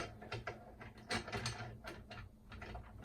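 The handle of a manual wheatgrass juicer locking into place makes a series of close, quiet mechanical clicks and ratcheting ticks, irregular and spread over about three seconds.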